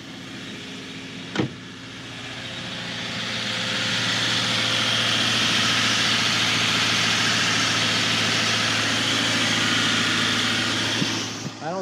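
A Subaru Crosstrek's engine idles smoothly after an oil change with Molygen oil, a steady low hum that swells slightly and holds, heard up close with a brief click near the start.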